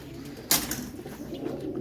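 Pigeons coo softly at close range in a loft, with a sudden burst of wing flapping early on and low murmuring calls continuing after.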